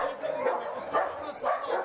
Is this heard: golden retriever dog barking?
yes